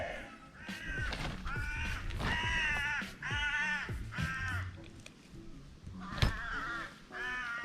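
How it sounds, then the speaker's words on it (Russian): Crows caw repeatedly outdoors at a tent campsite on the Gulf of Finland coast near Komarovo, a series of loud, harsh rasping calls in irregular bursts, some overlapping, with a sharp thump near the end. "Вороны все что-то каркают."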